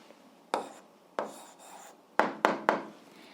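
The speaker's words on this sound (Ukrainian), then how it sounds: "записуємо відповідь, пишемо відповідь" Someone writes out an algebra answer by hand, with five short, scratchy strokes spaced unevenly and close by in an otherwise quiet room.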